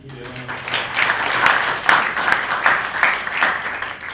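An audience at a book launch breaks into sustained applause, many hands clapping densely and steadily for several seconds, fairly close and loud.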